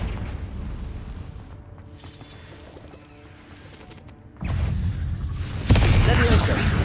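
A Confringo spell explodes in the video game Hogwarts Legacy: after quieter game ambience, a sudden loud booming blast hits, followed by a second, sharper burst that stays loud and rumbling.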